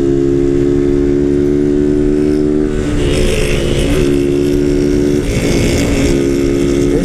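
A Honda Titan 160 motorcycle with an open exhaust and no filter revs hard, holding a loud, buzzing, high-pitched engine note close by, with the revs dipping and climbing again as it hits the limiter.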